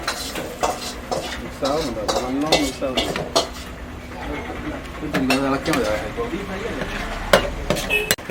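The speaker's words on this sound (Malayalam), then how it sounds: "തന്നെ ഇളക്കി മിക്സ് ചെയ്യിപ്പിക്കുകയാണ്" Food is stirred and mixed in a metal pot in a toddy-shop kitchen, with close scraping and clanking of a ladle against the pot and a faint sizzle, while people talk nearby and birds call in the background.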